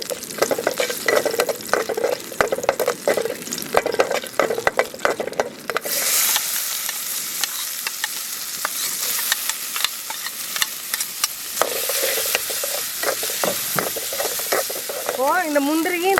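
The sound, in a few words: cashews and coconut roasting in a pan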